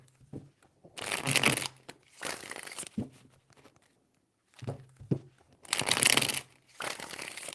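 Tarot cards are riffled and shuffled in several short, crisp papery bursts separated by quiet pauses, close up.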